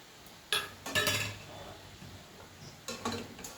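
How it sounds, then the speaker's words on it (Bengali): Vegetables coated with turmeric powder and ginger paste, cooked without water, get stirred in a pot for a vegetarian split-pea dish. Three short bursts of utensil scraping and clinking stand out against a quiet background. "দিয়ে সমস্ত সবজিগুলো আমি ভালো করে মিশিয়ে নেড়ে মিশিয়ে দিচ্ছি"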